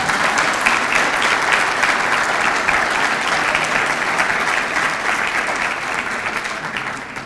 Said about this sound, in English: Would you give our commissioner's mother a round of applause for loving her?